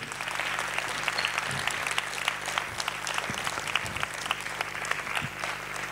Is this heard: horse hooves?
no